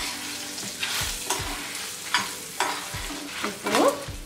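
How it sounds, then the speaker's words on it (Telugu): Dried red chillies dropped into urad dal frying in a pan sizzle steadily, with repeated scraping stirs and a few sharp pops near the end, close and fairly loud. "ఇప్పుడు ఎండుమిర్చి వేస్తున్నాను."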